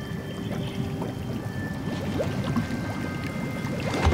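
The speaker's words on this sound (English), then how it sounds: "It's time to get into the hot tub." Water pouring and trickling as a character climbs into a hot tub in Fallout 76, a steady close splashing wash with soft sloshes and a thin electronic hum beneath, no voices.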